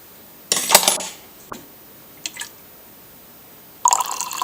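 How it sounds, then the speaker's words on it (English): A spoon stirs a yeast and water mixture for a slug trap, clinking and scraping against the container in a few short, bright bursts separated by quiet. "Give it a quick stir."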